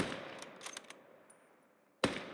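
A standard Russian bolt-action rifle of an older variant fires in Call to Arms: Gates of Hell, one shot cracking near and loud with a short echo tail, then a second sharp report after a quiet pause.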